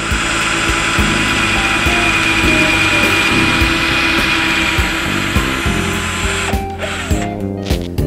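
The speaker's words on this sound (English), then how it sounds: "All drilled and ready to go." A power drill whines steadily while drilling holes in CNC enclosure parts, loud and close, with brief stops and restarts and a few knocks and clatters toward the end.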